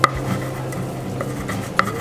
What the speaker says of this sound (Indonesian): Sekarang kita taruh sini, kita ulek dulu ya.